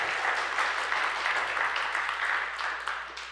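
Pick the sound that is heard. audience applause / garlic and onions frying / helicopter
audience applause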